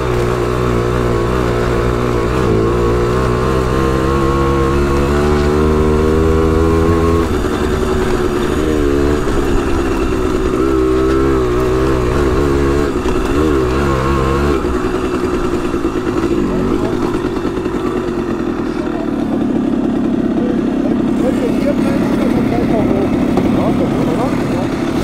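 Simson moped ridden off-road toward sunset, its small two-stroke engine droning steadily with shifting pitch as it revs and changes gear, loud and close throughout, with a voice talking over it.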